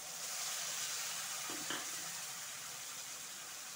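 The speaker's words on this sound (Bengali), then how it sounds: "এই মশলার সাথে আলুটা আবার ভালো করে ভাজবো।" Potatoes frying in a pan with a paste of garlic, ginger, onion, cumin and coriander, giving a steady, moderately loud hiss with a brief stirring clatter near the middle.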